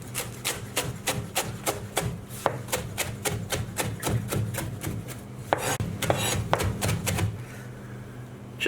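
Knife chopping half a handful of parsley and a quarter handful of fresh mint finely on a board, a steady run of close, crisp taps that slows and stops near the end, with no talking.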